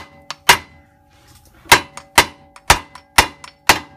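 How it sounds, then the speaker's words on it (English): Hammer blows on a stuck tie rod or ball joint during car suspension work, one sharp metallic clang then a run of five heavy ringing strikes, loud and close. "Just give her a smack and hit it hard."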